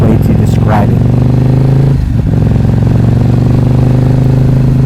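A 2011 KTM RC8R fitted with an Akrapovic exhaust, quick shifter and slipper clutch holds a loud, steady engine drone while riding, with a brief dip in the middle of the stretch.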